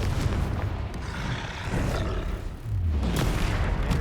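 A Confringo explosion spell in Hogwarts Legacy, a loud roaring blast that rumbles continuously with a heavy low boom, swelling again near the end.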